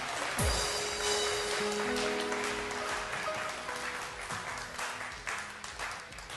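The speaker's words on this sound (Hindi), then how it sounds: "बहुत सारी तालियां हफ्जा के लिए।" Audience clapping for the first-place winner of a high school speech competition, a dense patter of hands heard at moderate level with faint tonal hum and a few thumps underneath.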